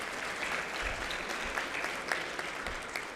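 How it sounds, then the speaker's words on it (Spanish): Audience applause at a results presentation for a health and education policy project, a steady, fairly soft wash of clapping from a seated crowd with a few sharper claps standing out, lasting the whole moment without talk. "Otro fuerte aplauso a Sebastián"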